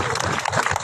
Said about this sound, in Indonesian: Tepuk tangan untuk kami semua.